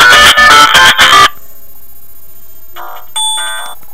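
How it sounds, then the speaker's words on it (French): A Classic Initial senior mobile phone with big keys rings at very loud volume: a few sharp, rapid electronic ringtone bursts, then, after a short pause, quieter melodic tones. No one speaks. "Vous avez une dizaine de sonneries très fortes."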